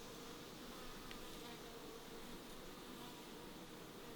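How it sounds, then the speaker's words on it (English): Honey bees swarm in an opened hive with a steady, faint, close drone of many wings and no talking. "There's bees on it."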